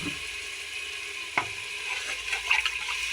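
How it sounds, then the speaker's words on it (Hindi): Water is poured into a pan of potato and pea curry, setting off a loud sizzle and bubbling hiss, with a couple of brief splashes and stirring clinks. "अब है ना मैं इसके अंदर थोड़ा सा पानी डालती हूँ।"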